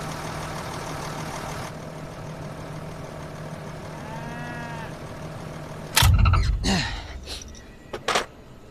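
A truck engine with a cylinder fault that makes it smoke idles with a steady low hum for several seconds, followed by loud clanks and knocks near the end.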